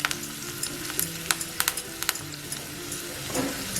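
Ginger, green chilli and curry leaves fry in hot oil for a curd vada tempering, giving a steady close sizzle with sharp crackles and pops scattered throughout, along with occasional stirring clicks and no talking.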